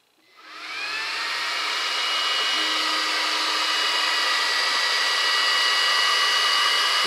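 An air assist nozzle on a laser engraving machine starts up and blows a steady, loud rushing stream of air, rising quickly over the first second and then holding constant at close range.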